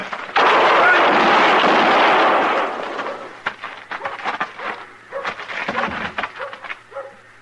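A loud gunshot blast in an old Western radio drama rings out and decays over a couple of seconds, followed by scattered thumps, scuffles and movement noises.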